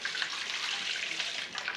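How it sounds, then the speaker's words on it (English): Homemade oat milk poured from a stainless steel bowl into a straining bag, a continuous close splashing gush that stays steady and fairly loud throughout, with no voices. "And you just pour it right in"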